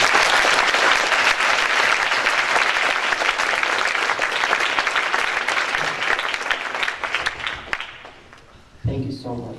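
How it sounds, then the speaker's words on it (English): An audience claps steadily and loudly for a keynote speaker at an event, then the clapping fades and a voice begins at the end. "Salah, let's give a big round of applause for Salah."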